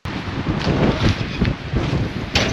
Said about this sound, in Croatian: Ne znam čujemo li se od vjetra,